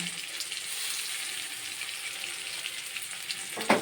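Food frying in a pan with salt added, a steady broadband sizzle held throughout while it is stirred, ending in a sharper scrape or clatter near the end; no talking.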